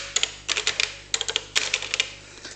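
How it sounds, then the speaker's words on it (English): Keys clatter on a Tandy TRS-80 CoCo computer keyboard running a vintage word processor, coming in quick bursts of sharp, close clicks with short pauses between them over a faint steady hum. "And we can start typing."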